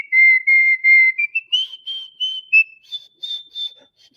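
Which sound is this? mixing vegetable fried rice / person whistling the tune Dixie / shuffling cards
person whistling the tune Dixie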